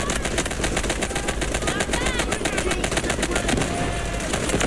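Rapid automatic gunfire from the mobile shooter game Delta Force Mobile, loud and continuous, with dense bursts of shots running the whole way through.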